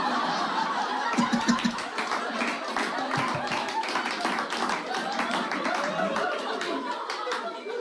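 Scattered audience clapping at a live comedy show, uneven and broken up by patches of laughter and chuckles from the crowd, fairly close and steady throughout.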